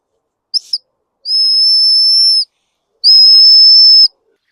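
Two long, shrill blasts from a small survival whistle on a multitool, each lasting over a second, follow a pair of quick short chirps. Loud and clear against silence.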